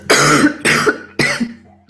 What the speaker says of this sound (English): because I was coughing